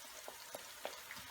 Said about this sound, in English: So now I'm ready to stir fry the chicken, and I put 1/3 cup of olive oil